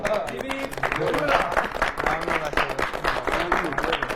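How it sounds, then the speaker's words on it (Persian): A crowd cheers and claps in honor of Masoud at a bulletproof competition show, a dense, steady burst of many voices and hands lasting throughout. "بچه‌ها به افتخار آقا مسعود هیبی هورا"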